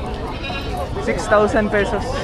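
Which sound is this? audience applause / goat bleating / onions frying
goat bleating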